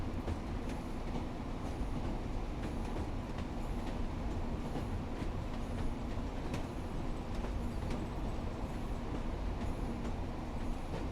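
A Pacer diesel train running on the Blackpool line in the game Train Sim World 4, with a steady loud rumble of engine and wheels and faint clickety-clack throughout, no talk.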